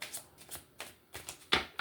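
Tarot cards are shuffled by hand up close, a run of quick riffling bursts with short pauses between them, fairly quiet and without speech.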